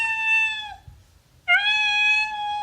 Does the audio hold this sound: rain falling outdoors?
no